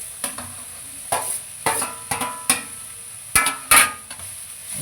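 Shredded cabbage and capsicum stir-frying on a home tawa, a soft sizzle broken by sharp rhythmic metal spatula strikes and scrapes against the pan, close and clear.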